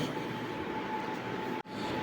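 A MEMU passenger train running between Kollam and Ernakulam gives a steady, loud rumble and roar of carriage and rail noise throughout, with a brief sharp dropout near the end.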